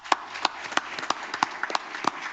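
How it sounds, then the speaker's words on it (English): Sparse, uneven clapping from a small audience at a board meeting, a handful of distinct hand claps spaced irregularly rather than a full ovation. "Let's give them a round of applause."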